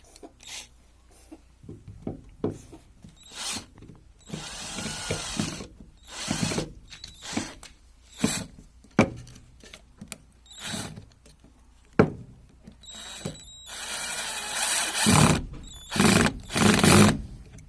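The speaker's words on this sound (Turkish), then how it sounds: "Bir daha bir tane daha vida atmaya deneyelim." A JCB Pro Plus 36V 5Ah cordless impact drill drives a screw in repeated short bursts of whirring and ratcheting clicks, with pauses between them and a longer, louder run near the end.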